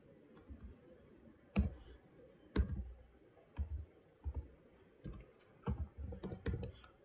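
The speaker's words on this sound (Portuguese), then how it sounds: "Porque senão tem que ficar digitando demais" Someone types on a computer keyboard while writing Python code, with irregular bursts of clicky keystrokes, some sharp and loud, others soft, over a low steady room hum.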